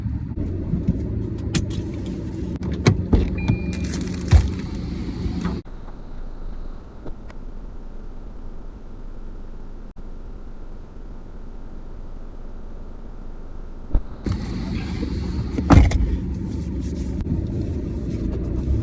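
A car drives slowly around a car park, with a low engine rumble and road noise in the cabin, louder at the start and end with a quieter stretch in between and no talk.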